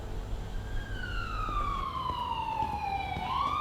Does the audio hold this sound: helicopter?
no